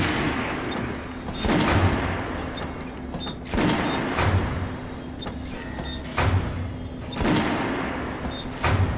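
Gunfire in Metro Last Light Redux, a post-apocalyptic shooter: loud, heavy single shots fired at irregular intervals, roughly every second or two, each with a booming echoing tail over a low constant hum.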